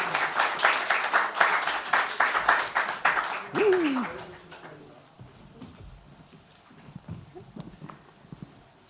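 An audience gives a round of applause as teams join the stage, rhythmic clapping for a few seconds that breaks off into a voice speaking, then scattered quieter sounds and some talk toward the end.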